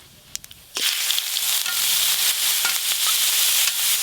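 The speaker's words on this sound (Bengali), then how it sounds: "এবার গ্রেট করে রাখা বিট দিয়ে দেব" Grated beetroot goes into hot oil with tempered asafoetida, fennel seeds and nigella seeds, starting a loud, sudden sizzle after a few faint clicks and settling into a steady close crackle with stirring, alone without talk.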